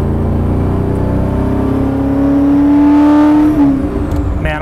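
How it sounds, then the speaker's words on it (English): The original Maserati Ghibli's engine revs up on the move, a loud rising growl climbing through the gears, then dropping away as the driver lifts off; no talk. "All these cars and their engine sounds are unbelievable."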